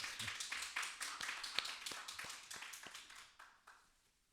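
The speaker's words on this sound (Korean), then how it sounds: "여러분 앉은 자리에서 우리 박수로 한번 맞이하겠습니다" A church congregation at a Thursday worship service in Seattle claps in welcome, a steady run of distinct, fairly even hand claps that thins out and fades toward the end.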